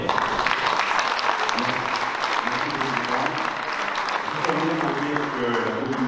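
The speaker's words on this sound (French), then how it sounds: "on peut vous applaudir très fort" Audience applause at a prize-giving ceremony, sustained clapping from a large crowd throughout, with a voice talking over it.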